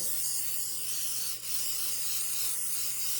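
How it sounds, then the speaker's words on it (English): A can of cooking spray hisses in one continuous spray over an apple crumble, broken by a brief pause midway before resuming, close and fairly quiet. "gonna spray the top with some cooking spray again"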